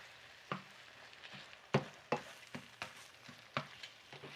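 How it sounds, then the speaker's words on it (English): Salmon and eggs are stirred in a sizzling pan, a quiet steady fry broken by irregular scraping strokes and soft taps of a utensil against the pan, close by and without talk. "Let's just start moving this stuff around. Get it all mixed in real good."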